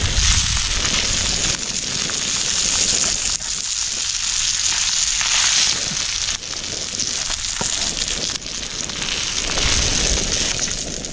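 Big jilebi fish (tilapia) coated in masala sizzles loudly in hot oil on a stove, a steady close crackle and hiss throughout with no talk.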